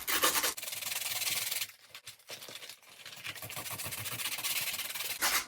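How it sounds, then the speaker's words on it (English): Light-grit sandpaper rubs steadily against a home decor craft piece, a continuous close scratchy hiss in two long stretches with a brief pause in the middle. "this is actually working very well. Just a light grip sandpaper."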